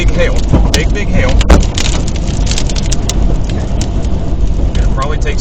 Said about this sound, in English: All right, we got big hail.